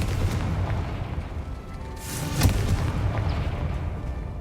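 A Confringo blast spell explodes in Hogwarts Legacy, a deep booming detonation with a rumbling tail in the middle of continuous low in-game rumble and effects.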